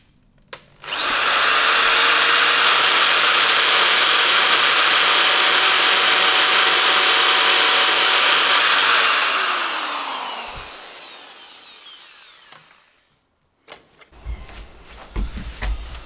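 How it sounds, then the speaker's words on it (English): A power drill bores out a stuck part on a Sega Mega Drive restoration, a loud steady whine running several seconds before spinning down and fading, followed by a few clicks and knocks. "I basically had to drill that out"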